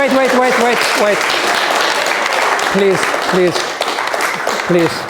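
An audience claps steadily throughout, with a voice speaking or singing over the clapping in short intermittent phrases.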